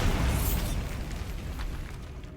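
A Bombarda spell explosion in Hogwarts Legacy lands as one loud, close boom that rumbles and slowly decays over a couple of seconds, with no voices.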